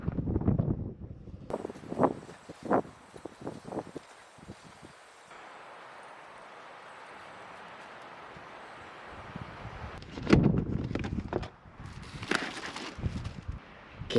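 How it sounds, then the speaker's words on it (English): Strong wind gusts across a campsite, a rushing, rumbling wash that buffets the microphone, building and easing over several seconds between bursts of nearby clatter and handling noise. "Man, it is starting to get really, really windy."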